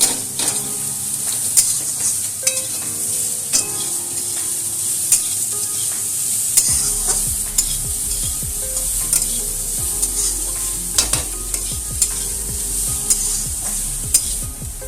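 Spices with cumin powder and salt are stirred and fried in a pan for a banana-stem dish. A continuous sizzle hisses under frequent sharp scrapes and clinks of a spatula against the pan, close and fairly loud, with no voices.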